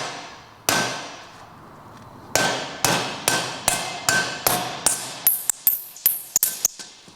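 A socket hammered to drive a bearing out of a hot Vespa P200e engine case: one loud metallic strike, a pause, then a fast run of about a dozen sharp ringing blows, each dying away quickly.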